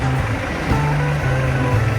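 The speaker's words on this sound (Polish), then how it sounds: "autobus odjechał." A red London double-decker bus pulling away from a stop, its engine giving a low, steady rumble with a slight rise in pitch as it moves off, heard fairly close in street ambience.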